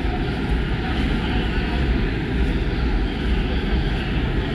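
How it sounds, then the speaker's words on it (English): An airplane comes in to land, its engine giving a loud, steady roar that fills the whole stretch without letting up. "That's an aeroplane kind of like"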